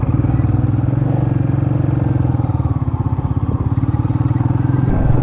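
A motorcycle engine runs at a steady, loud, close pulsing idle-to-cruise throb during a ride, with a constant rhythmic low chug and no talk.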